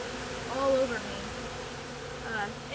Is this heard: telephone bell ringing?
no